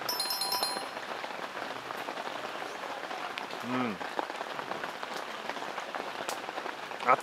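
Rain falls steadily during a typhoon-day camping trip, a continuous soft patter and hiss on surfaces around the campsite, fairly quiet, with a brief faint tonal sound partway through.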